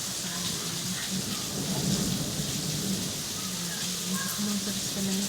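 Heavy rain pours constantly during a thunderstorm, a dense even hiss with deep thunder rumbling beneath it and a faint tonal sound drifting in the background.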